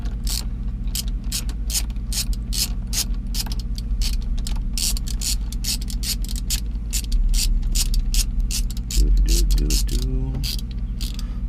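Interior trim screws are unscrewed in a BMW 135i with a rapid, steady train of crisp ratcheting clicks, close up. A short burst of speech comes in near the end.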